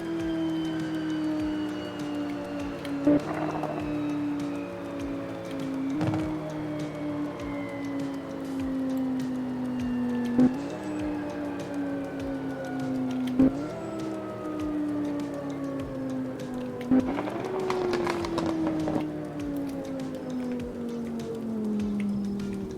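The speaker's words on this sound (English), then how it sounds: "Okay, let's start slowing it down, get some downshifts as well." Tuned Volkswagen Golf 6 engine decelerating steadily from high speed, its droning note falling in pitch with roughly five sharp blips as it downshifts through the gears, loud and continuous with wind and road noise.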